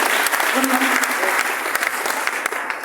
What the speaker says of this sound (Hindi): सुरेश सर के लिए जोरदार ताली होनी चाहिए।